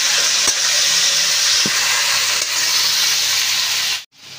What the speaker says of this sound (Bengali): এই যে মেখে রাখা লোটে মাছ ঢেলে দিলাম। ঢেলে দিয়ে ভালো করে নেড়ে চেড়ে